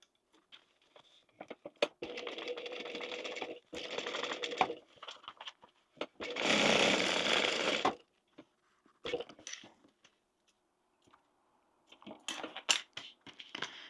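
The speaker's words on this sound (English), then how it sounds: "sew down there and along the bottom, just to close up our pocket" A sewing machine stitches down and along the bottom of a fabric wallet pocket, running in two steady bursts and then a longer loud burst, with handling clicks and rustles between stitching runs.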